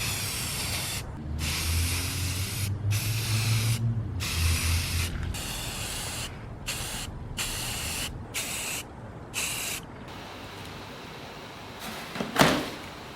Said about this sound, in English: Okay, I'm using Rust-Oleum Painter's Touch.